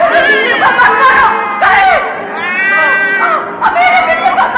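Cat meows in a Hindi cassette audio story about a witch and a prince, arcing cries mixed in among urgent voices and background commotion.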